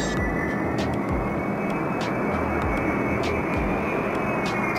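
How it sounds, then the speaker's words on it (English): An Ilyushin IL-76, a large Russian four-engine transport aircraft, roars steadily and loud with a dense broadband engine rush, a continuous drone with no voices. "a Russian military and civilian transport aircraft designed by Ilyushin"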